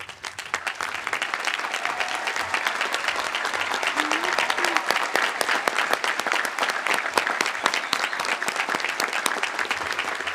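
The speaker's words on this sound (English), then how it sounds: "express our gratitude with a well-deserved round of applause" A large audience at a high school graduation ceremony applauds steadily for a sustained stretch, the dense clapping staying loud and even throughout, with faint voices underneath.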